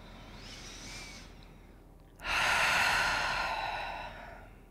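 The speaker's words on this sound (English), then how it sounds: "Let's take three more breaths here." Slow, audible breaths during a yin yoga pose in a quiet class: a soft inhale, a brief pause, then a fuller, louder exhale that fades out gradually, with no talking.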